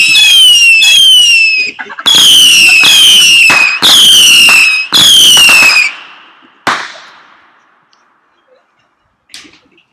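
Firework missiles launching one after another outdoors, loud whistling screeches in quick succession, followed by a distant bang and a fading crackle, then near silence.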